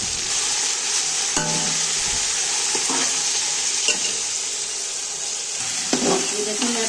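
Beef frying in mustard oil with browned onion, garlic and ginger, a constant close sizzle broken by occasional scraping clatters of stirring in the pan, with no talking.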